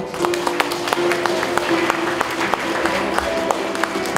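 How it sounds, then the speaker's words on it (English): Audience applause at a Santa Cruzan celebration in Kuwait, a steady patter of many hands clapping over a room tone with a faint sustained hum, with a few sharper claps standing out. "Give her a round of applause, everyone."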